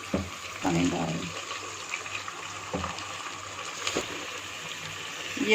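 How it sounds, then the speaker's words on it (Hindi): Water pours into a cooking pot of chicken meat with garlic and ginger paste while making spinach chicken, a steady gushing and splashing fill running throughout at moderate level, with no one talking. "पानी डाल दें।"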